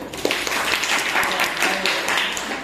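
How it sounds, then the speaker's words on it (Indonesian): Students in a classroom give a round of applause, a busy wash of clapping that stays fairly even throughout, with faint voices mixed underneath. "Tepuk tangan dulu."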